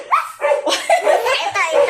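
A person imitates a dog's barking with a string of short, voiced yelps and bow-wow sounds, close and fairly loud, mixed with giggling.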